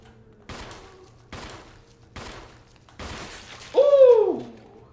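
Shots fired at an enemy in Metroid Prime: four evenly spaced bursts of blaster fire, the last followed by a swooping, hooting impact tone, with no talking.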